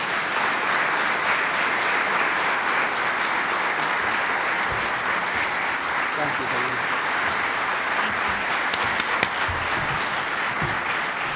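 Sustained audience applause at an event with the governor and the mayor, a dense, even wash of clapping lasting throughout, with someone speaking briefly near the end.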